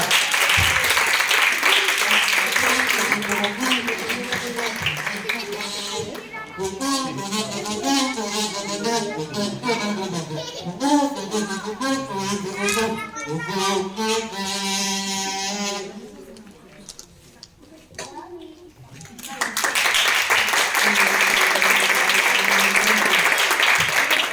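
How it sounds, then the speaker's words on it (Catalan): An audience at a comic history show in Sagunt claps loudly and steadily, then the applause gives way to music and voices before a fresh round of clapping swells again at the end. "Aplaudiments, vinga, vinga!"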